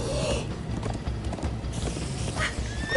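Hooves clatter in a quick clip-clop rhythm as horses run in the video game Minecraft: Story Mode, with a brief whinny near the start and another near the end.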